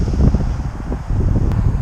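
Gusty wind buffeting the microphone at an exposed paragliding launch site, a steady low roar swelling and easing in close, loud gusts with no voices.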